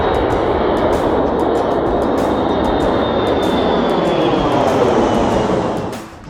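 A loud, steady aircraft engine roar near an airport fills the air with broad rushing noise and a faint sliding whine, holding constant before easing off at the very end.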